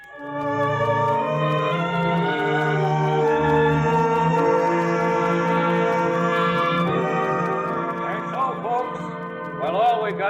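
A church bell rings out steadily in a radio drama set in frontier Tombstone, sounding near and sustained with layered ringing tones, joined by a brief swell of other sound near the end.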